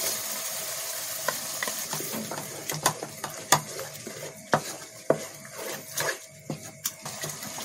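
Sesame, coconut and almond paste frying in oil for kofta curry, a low sizzle under repeated sharp spoon clinks and scrapes against the pan at an irregular pace.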